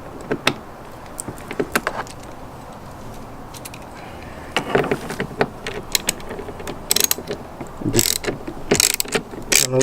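A ratchet clicks in short bursts while loosening a Torx screw on the door panel of a 2005–2009 Ford Mustang, close and fairly loud, with pauses and handling clatter between bursts.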